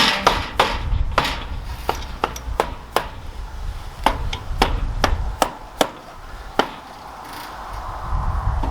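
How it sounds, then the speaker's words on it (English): A hammer taps wood into place on a raised garden bed in a loose series of sharp knocks, some quick, some spaced apart, close by against a low background rumble. "I use my hammer, just tap it in there"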